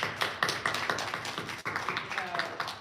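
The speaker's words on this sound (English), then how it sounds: "Round of applause for everybody." Brief scattered clapping from a small group at a grade 5 school spelling bee, light and uneven over a few seconds, with a voice speaking during it.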